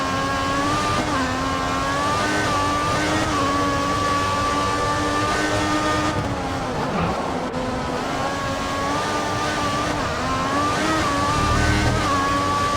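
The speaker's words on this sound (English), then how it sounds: "I'm getting used to the sound of the car." A Formula 1 race car engine in the F1 2014 racing game holds a steady high-pitched whine, its revs rising and dipping slightly through gear changes and corners, loud and continuous with no voices.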